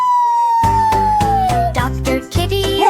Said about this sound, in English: Just siren sound.